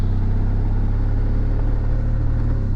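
A car laps a public road motor racing circuit that winds around a hill, its engine a loud, continuous, close drone with a steady low rumble throughout.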